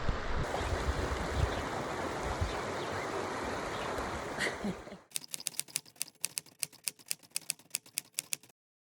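A river in Mucubal country, Angola, rushes with a steady broadband hiss for about five seconds during a 4x4 journey, then gives way to a rapid series of sharp, dry clicking taps.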